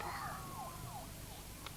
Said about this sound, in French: C'est quoi ces sirènes? Des ambulances.